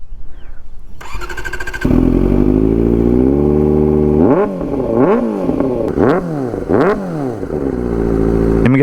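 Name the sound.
Kawasaki motorcycle with custom exhaust starting and revving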